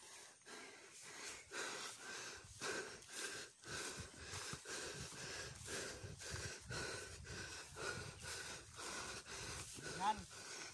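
Heavy, rhythmic panting close to the microphone after a steep uphill hike, with repeated loud wheezy breaths and short pauses for about eleven seconds.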